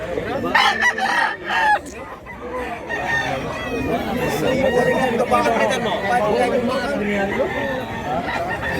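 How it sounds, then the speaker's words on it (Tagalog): Dark-legged chickens and roosters at a market in Mantalungon, Cebu crow and cluck nearby, with a rooster's drawn-out crow rising over the flock while people chatter in the background. "Gandang mga manok."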